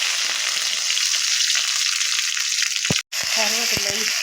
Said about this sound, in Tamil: ஆயில், கடுகு பொரிஞ்சிட்டு இப்போ காஞ்ச மிளகாய்,